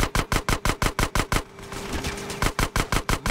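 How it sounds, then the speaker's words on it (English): Rapid automatic gunfire from the video game GTA San Andreas, fired to shoot out a gate, comes in steady loud bursts with a one-second pause in the middle, and no talk is heard. "Shoot out the gate!"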